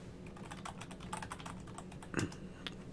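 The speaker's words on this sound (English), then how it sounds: "I forgot sometimes my keyboard's kind of loud." Rapid clattering taps on a loud computer keyboard, a dense run of close key strikes with one heavier thump near the end, no speech.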